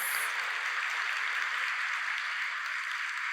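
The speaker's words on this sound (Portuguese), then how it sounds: "Então vocês vão recebê-los com uma salva de palmas." A church congregation claps together in welcome. The applause is steady, soft and somewhat distant, a continuous patter with no voices over it.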